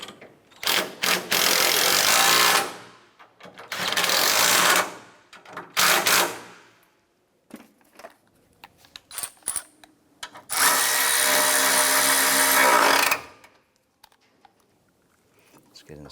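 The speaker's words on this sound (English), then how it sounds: "Go ahead and tighten these bolts down." Power tool tightening bolts on the front torque strut engine mount of a 2006-2013 Chevrolet Impala: three loud, sustained whirring bursts separated by quieter clicks and handling noises, with a person talking between them.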